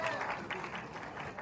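Applause from an awards-ceremony audience welcoming a Bhojpuri star as he receives best singer and best actor awards, a steady dense clatter of clapping with voices mixed into the crowd noise.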